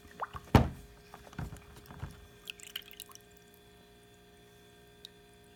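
Water drips and splashes off rusty tools during a quick rinse, a few close irregular drops and splatters that thin out into quiet.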